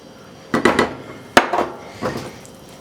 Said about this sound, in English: I'm just going to mix this by hand.